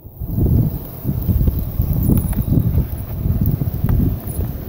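Gale force wind blowing outdoors, a loud, continuous low rumble of gusts buffeting the microphone for the whole stretch, with no voices.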